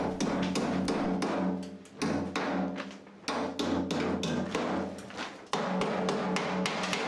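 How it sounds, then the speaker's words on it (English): Rapid hammer blows ring on the metal body of a camper van under rust repair, a dense, steady series of sharp taps and thuds with brief pauses, close and loud. "You can see bits of debris falling off from other sections as I send shockwaves through the van with the hammer."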